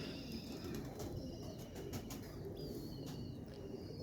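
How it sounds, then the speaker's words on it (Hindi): Slate-coloured Selati pigeons coo softly inside a pigeon loft, a low continuous murmur with faint chirps over a steady background hum, no talking. "अच्छा मोशी भाई, ये किन कबूतरों में से स्लेटी कबूतर हैं?"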